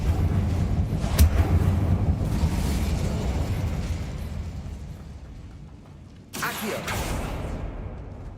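A fiery Incendio spell blast in Hogwarts Legacy sounds as a sharp burst settling into a roaring rumble that fades, then a second loud whooshing blast erupts near the end.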